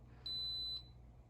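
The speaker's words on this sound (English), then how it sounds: "It'll give a beep, so there we go." A slow cooker gives a single high-pitched electronic beep, about half a second long, sounding clearly over a quiet low hum.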